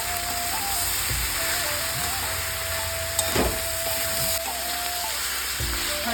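Banana flower and potato pieces fry with salt in a pan, giving a steady, close hiss and sizzle throughout, with a faint tone and a few soft clicks of stirring.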